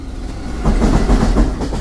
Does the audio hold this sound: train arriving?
yes